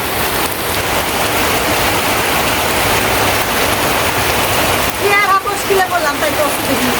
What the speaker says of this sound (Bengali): কিন্তু এখন দেখা যায় যে ঢল নামছে